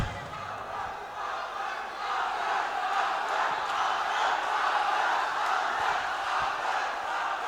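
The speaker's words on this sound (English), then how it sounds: "The home crowd cheering Abrar on." A home crowd roars steadily for a fighter during a heavyweight combat-sports bout, a dense sustained cheer that stays loud and even throughout with no clear break.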